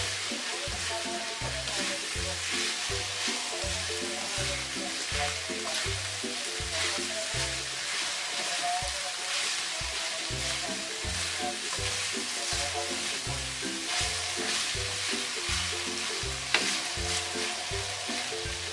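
Garlic pepper beef sizzles steadily in a hot pan while being stirred, a dense continuous frying hiss with rhythmic scraping pulses from the utensil running throughout, close and loud, with no talking.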